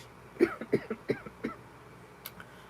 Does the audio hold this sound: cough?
yes